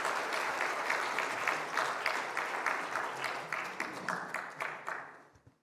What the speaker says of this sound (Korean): 하나님께 영광 돌리는 의미에서 다시 한번 우리 박수로.